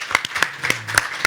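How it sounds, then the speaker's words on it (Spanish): Brief clapping from a small audience at a photography book launch, a few hand claps at a steady rhythm, close and moderately loud. "Así que un aplauso para la Sonia."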